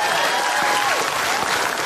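Steady, dense clapping from a large TV comedy show studio audience, sustained and loud throughout with no pauses.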